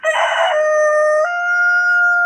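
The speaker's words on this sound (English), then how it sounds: "The chickens have told me it's time to let them out" A rooster crows loudly and close by, one long sustained cock-a-doodle-doo with a steady, drawn-out tone.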